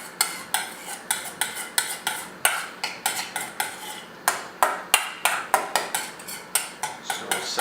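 Salmon being stirred in an acidic marinade in a bowl gives a steady run of sharp, close clinks and scrapes of a utensil against the bowl, one or two strokes a second, with a short pause partway through.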